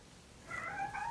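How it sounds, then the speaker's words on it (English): A pet cat named Kimchi, upset after a plumber's visit, lets out a drawn-out, wavering meow that rises in the second half of the clip over low room noise in a home. "If you can hear a cat meowing, it's Kimchi."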